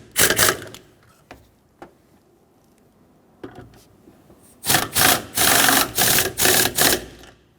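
Brake master cylinder mounting nuts on a 2000-2005 Ford Excursion are tightened with a ratchet: a short burst of clicking, scattered faint knocks, then a run of rapid, loud, evenly pulsing ratchet strokes close by.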